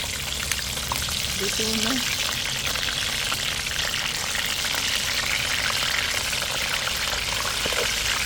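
Fish fries in a pan near a kitchen, with a dense, loud, continuous sizzle and crackle that persists steadily throughout; a voice speaks briefly early on.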